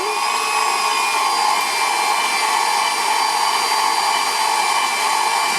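A Hamilton Beach stand mixer runs on its kneading setting, giving a steady, loud motor whir with a high whine that holds even from start to finish, with no talk.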